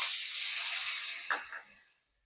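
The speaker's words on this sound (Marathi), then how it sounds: "तर आपल्याला 2 मिनिटं कांदा असा चांगला भाजून घ्यायचा" Onion sizzling in butter and oil with garlic in a wok, a dense, steady hiss close up that fades out and cuts to silence near the end.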